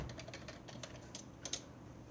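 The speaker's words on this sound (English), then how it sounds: "So I'll type in O'Brien" Someone types a surname on a computer keyboard, a quiet run of light, fairly even key taps with a couple of slightly sharper strokes near the end, close by in a hushed room with no talking.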